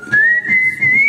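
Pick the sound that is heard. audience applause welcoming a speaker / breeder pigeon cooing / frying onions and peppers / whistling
whistling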